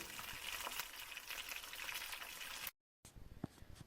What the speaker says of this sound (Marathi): कढईमध्ये चार चमचे तेल गरम करून त्यावर मॅरिनेट केलेले चिकनचे पीस एक एक करून सर्व घालायचे